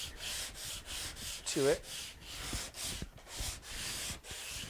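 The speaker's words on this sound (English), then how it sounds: "even after planing, I do like to take some sandpaper" Sandpaper rubs back and forth across a planed wooden guitar top by hand in steady, soft rhythmic strokes, with a brief short voice partway through.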